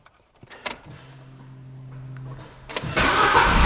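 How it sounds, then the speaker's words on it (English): A car engine cranks after a relay jumper wire is installed to bypass a broken wire: a steady starter whir builds for a couple of seconds, then the engine catches and settles into a loud, steady run. "That's awesome, the car starts again."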